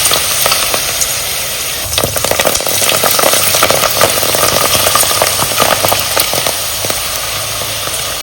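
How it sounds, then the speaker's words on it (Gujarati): Bhungra fryums frying in hot oil in a Gujarati village kitchen, a loud, steady broadband sizzle and crackle running throughout with scattered sharper pops and occasional stirring clatter. "પાપડ ને તરવા ભૂંગરા તરો"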